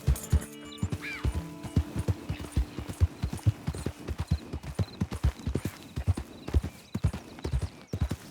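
A horse gallops at a steady pace in Red Dead Redemption 2, its hooves clip-clopping in an even, repeating rhythm close by, with a brief whinny and faint rattles in the background.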